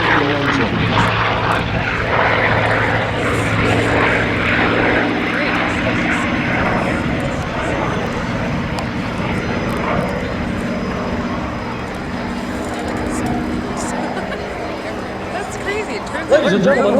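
A propeller airplane with a radial engine flying an aerobatic loop at an airshow, its droning engine roaring steadily and fairly close throughout, with the pitch shifting as the loop is flown and no talk over it.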